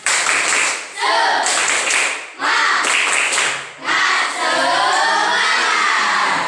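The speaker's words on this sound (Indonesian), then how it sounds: "Tepuk semangat" Schoolchildren in a classroom performing the "tepuk semangat" rhythmic clap routine, bursts of group clapping and chanting voices in patterned sections separated by brief pauses, loud and close.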